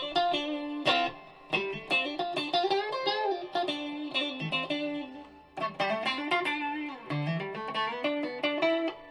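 A G&L S500 Strat (2019) electric guitar playing chords and melodic phrases through a shimmer reverb pedal, heavy shimmering reverb, lush sustained tails between strums, played alone.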